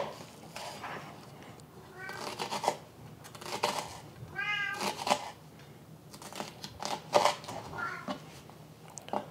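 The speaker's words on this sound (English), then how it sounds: "Wow, the cat has gone nutso today. She's got a lot to say today. She is super vocal." Cat meowing repeatedly and insistently in a home kitchen during cooking, several drawn-out, wavering meows spaced across the span, close and fairly loud over kitchen clatter and background sounds.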